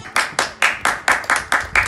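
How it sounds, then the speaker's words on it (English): Hands clapping in a steady, brisk rhythm for carers and NHS workers, about eight sharp, loud claps close by with no other sound. "that's a clap for carers."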